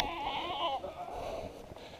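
Goats, including babies, bleat loudly at morning feeding: one close, drawn-out wavering bleat with other bleats overlapping behind it.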